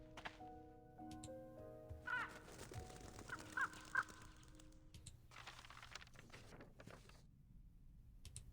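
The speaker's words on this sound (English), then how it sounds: "A crow?" Faint crow caws come in a few short bursts at a distance, mixed with light clicking and soft background tones, and no voices are heard.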